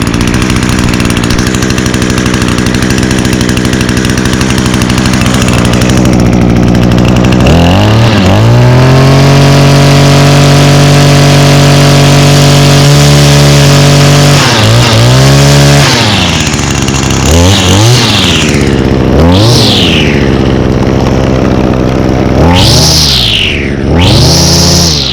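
A small two-stroke yard-tool engine, fogged during winterizing, idles loud and steady, then revs up repeatedly in sharp rising bursts toward the end.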